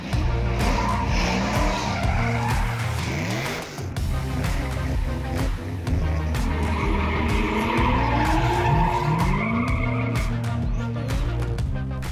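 A drift school car skids around a course in Cape Town, tires squealing in long wavering wails over a loud, revving engine that rises and falls continuously.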